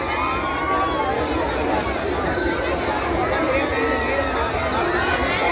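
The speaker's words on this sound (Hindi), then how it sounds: "कल लास्ट है 2 जनवरी तक, देख सकते हैं कितना ज्यादा भीड़ है।" A large, dense crowd chatters continuously at a fair held at the old Mithapur bus stand in Patna, a steady close-up babble of many voices with no pauses.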